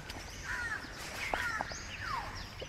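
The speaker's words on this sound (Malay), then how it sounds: "Tengok, dengar tak bunyi burung. Burung gagak." Several crows caw at sunrise at a seaside resort, their harsh calls repeating irregularly at moderate distance over a quiet background.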